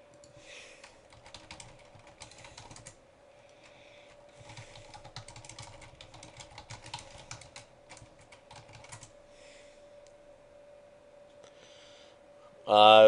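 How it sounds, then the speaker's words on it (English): Soft keyboard typing at a computer during an online poker game, in uneven bursts of light clicks with pauses, fairly faint over a steady tone, ending in a sudden loud sound. "I was typing on Skype."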